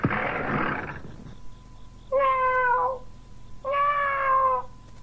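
In a radio drama garden scene, a man imitates a cat, giving two drawn-out, nasal meows close to the mic after a brief burst of rustling noise.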